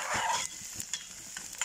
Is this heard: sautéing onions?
yes